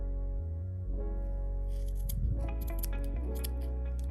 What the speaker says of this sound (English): your scissors might not snip through all of them at once